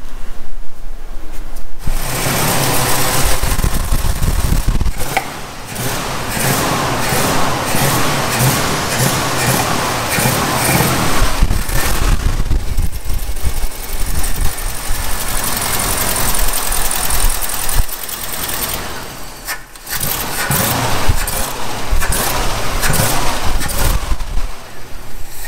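A 1963 Ford B100 truck with a 292 Y-Block V8 runs steadily nearby, its loud, continuous idle with a rough, slightly knocking texture filling the whole stretch, with no speech over it.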